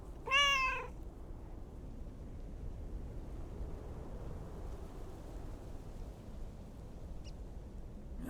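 Mortimer the cat gives a single short, clear meow in the game Lake, close and loud at the very start, followed by quiet low room hum with no talking.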